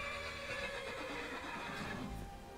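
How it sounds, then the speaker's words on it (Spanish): A horse neighs in the video game Skyrim, a shrill whinny set against a steady, dense game soundscape, with no voices present. "He traído a mi caballo de vuelta."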